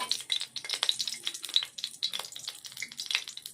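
Hot ghee sizzles in a kadai before vermicelli is fried in it: a close, crackling, spitting sizzle with rapid irregular pops and no voices.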